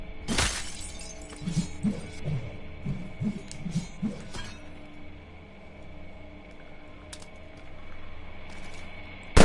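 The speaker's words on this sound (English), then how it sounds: "I want to break this glass" Glass shattering in the PSVR video game Killing Floor Biolab: a sharp, loud crash up close, followed by scattered tinkling shards and a quieter background hum.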